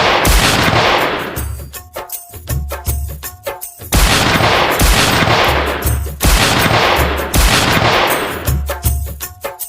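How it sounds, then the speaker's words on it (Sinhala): Gunfire from a gun shot at wild boars in a cartoon, loud close bursts of rapid repeated shots that come in three similar volleys, each fading out before the next one starts. "වෙඩි තිබ්බා."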